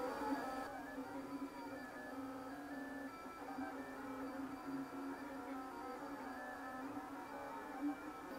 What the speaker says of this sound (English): look at the speed that extruder gear is going round